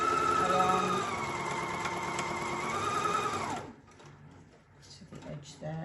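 A sewing machine runs steadily as it stitches a quarter-inch seam along the edge of a quilt, loud and close for about three and a half seconds. It then stops, leaving faint handling noises.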